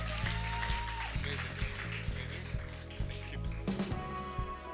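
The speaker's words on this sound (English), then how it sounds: "I think they deserve a bigger round of applause." Applause from an audience at a film promotion event with Bollywood stars, clapping spread beneath loud tonal music or instrument sound, moderately distant and partly masked.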